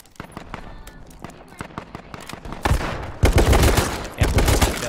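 Rapid bursts of video game gunfire crackle loudly, starting as scattered shots and building into dense, heavy volleys in the second half.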